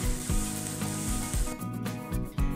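Aromatics with turmeric sizzling steadily in a frying pan, a loud continuous crackle with a few stirring scrapes and shifts partway through.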